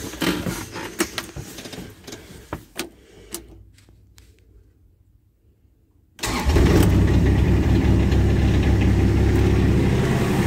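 A Kubota RTV X1100C utility vehicle engine starts: a few clicks and faint cranking, a quiet pause, then the engine catches and settles into a steady, loud idle.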